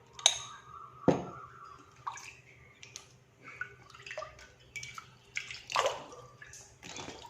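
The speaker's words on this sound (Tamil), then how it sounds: "தண்ணி எடுத்து வாஷ் பண்ணியாச்சு." Water is splashed onto a face during washing with a homemade vitamin C and vitamin B3 face wash: close, intermittent splashes and drips with short quiet gaps.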